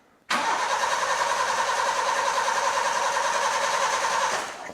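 A Japanese-import Daihatsu 4WD, parked for six years, fires up and runs. The engine catches abruptly and holds a loud, steady, buzzing mid-pitched idle for about four seconds before fading slightly at the end.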